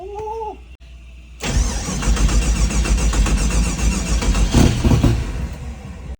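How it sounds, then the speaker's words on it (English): A cheap used engine cranks and fires up on a test run, bursting into a loud, rough, steady running roar after a brief quiet lead-in. "So let's see if it starts."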